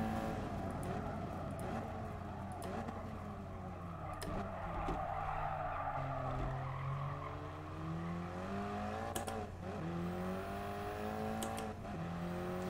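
A race car in the racing game GT Sport brakes hard, its tires squealing in long wavering whines over a steady engine drone, close and continuous with no talk.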